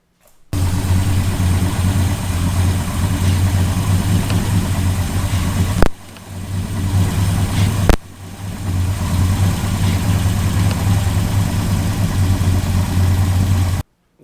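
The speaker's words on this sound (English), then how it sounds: "So now let's start the car." A 1968 Dodge Charger V8 fired up after a vacuum brake booster replacement, running as a loud, steady, close idle with a deep low rumble, briefly dipping twice mid-run before settling back to a constant idle.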